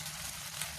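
Beaten egg poured into chowmein frying in a pan gives a soft, steady sizzle with a faint low hum underneath, even and continuous throughout.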